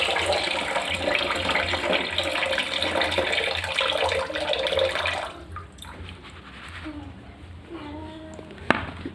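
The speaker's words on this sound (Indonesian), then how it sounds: "Setelah direndam, airnya kita buang." Soaking water poured off grass jelly leaves, a loud splashing pour for about five seconds that stops abruptly, followed by quieter dribbles, faint clinks and a sharp knock near the end.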